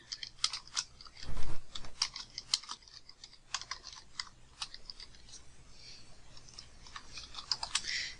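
Keys clatter on a computer keyboard as a location is entered into freight shipping software, a quick burst of clicks followed by irregular, moderately close taps with short pauses, and no talking.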